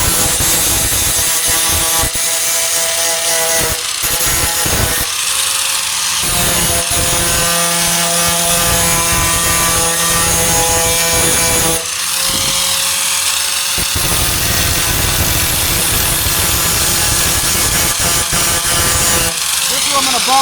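A blade scrapes rust off a 1998 Ford Ranger tailgate in loud, continuous abrasive rasping strokes with brief pauses, close up, under intermittent male speech.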